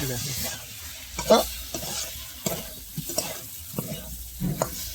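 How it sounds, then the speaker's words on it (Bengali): Diced potatoes stir-fried in a pan with spices and tomato, a steady low sizzle broken by irregular scraping strokes of a spatula, moderately close and without talk. "আলুগুলোকে ভালোভাবে কষিয়ে নিতে হবে"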